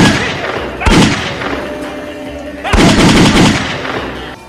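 Rapid bursts of gunfire from a movie scene, two loud dense volleys with a short lull between them, mixed with shouting voices.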